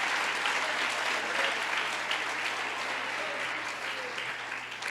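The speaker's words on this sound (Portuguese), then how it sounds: "dá uma salva de palmas a Jesus" Church congregation applauding during a sermon, a steady sustained wash of clapping from many hands throughout, fairly close and even, with no talk over it.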